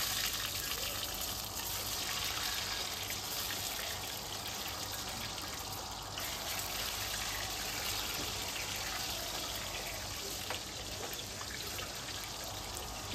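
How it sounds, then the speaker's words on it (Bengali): Eggs dropped into hot oil for egg rezala give off a loud, continuous sizzling hiss that holds steady throughout, with no voices. "তেলটা আমার গরম আছে, আমি ডিমগুলো দিয়ে দিলাম।"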